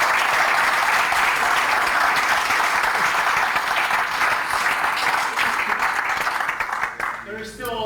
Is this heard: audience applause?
yes